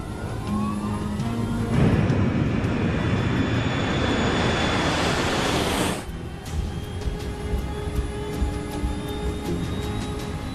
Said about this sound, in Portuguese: Nós aceleramos até a velocidade da decolagem.